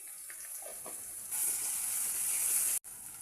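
Onions, green chillies and ginger-garlic sizzle loudly in hot tempering oil for an aloo capsicum masala curry, a bright steady hiss that swells partway through and then cuts out briefly.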